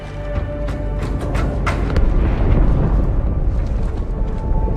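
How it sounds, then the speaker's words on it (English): A huge explosion inside a ship in the video game Halo 2 rolls out as a loud, sustained rumbling roar with scattered crackles and bursts, building slightly toward the middle and holding without speech. "That explosion came from inside the Athens."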